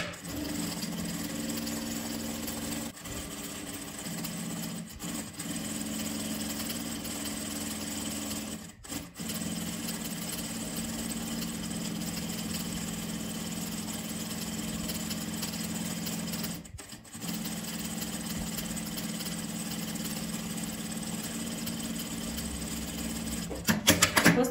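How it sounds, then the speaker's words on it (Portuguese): A sewing machine stitches around a fabric circle for a Christmas multipurpose craft piece, a steady close whirring run with a few brief pauses and quiet talk-free stretches throughout. "Agora eu vou costurar esse círculo."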